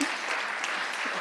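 Short burst of audience applause at a city council meeting, dense clapping filling the whole moment with a faint voice underneath.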